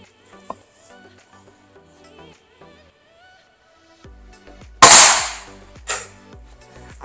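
Gunshots ring out at an army museum shooting range in Trincomalee: a faint tick early, then one loud sharp crack followed by a second shorter report about a second later, against a quiet background.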